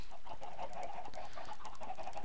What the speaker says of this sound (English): But where are these chickens?